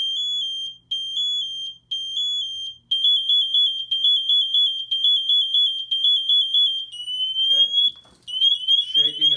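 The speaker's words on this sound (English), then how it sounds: "we've got our primary alarm, our early warning alarm." An MSA G1 PASS device sounds its full alarm during a weekly function test, a piercing high electronic tone pulsing in rapid bursts with brief gaps, close and loud, shifting pitch near the end as some muffled handling noise intrudes.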